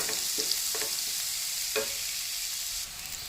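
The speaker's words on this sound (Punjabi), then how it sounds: "ਇਹਨਾਂ ਤੜਕੇ ਨੂੰ ਵੀ 2 ਤੋਂ 3 ਮਿੰਟ ਇਹਨੂੰ ਪਕਾ ਲੈਣਾ" Tadka for a garlic and tomato sabzi fries in a pan with a steady, loud sizzle. A spoon scrapes and stirs it several times, and no one speaks.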